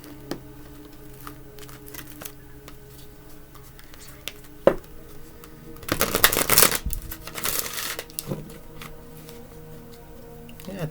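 Tarot cards being shuffled by hand, a quiet room with scattered soft taps and ticks before a dense riffling burst of about two seconds, then lighter card handling afterward.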